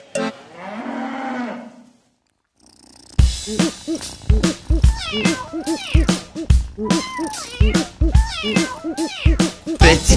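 Kitten meows in a children's song, heard as repeated meow-like calls over bright, rhythmic music with singing, after a low drawn-out moo-like call at the start; the meows are probably voiced imitations.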